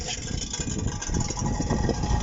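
Vehicle engine with a broken exhaust at Modlin Fortress in Poland, a rough, rumbling idle heard up close, steady and uneven without any clear change in pace.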